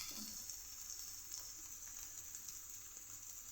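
Garlic, ginger and carrot fry in hot oil for a home-style Chinese dish, giving a steady, faint sizzling hiss that stays even throughout with no talking.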